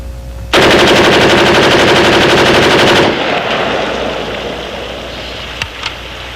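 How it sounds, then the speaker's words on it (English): A 5.56 assault rifle fires a sustained full-automatic burst of about two and a half seconds, loud and rapid, then echoes fade out with a couple of faint later clicks. "the aim and control difficulties encountered when we fire this weapon on full automatic"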